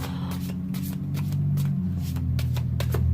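Tarot cards are shuffled close up in rapid riffling bursts, a crisp repeated flutter over a low steady hum.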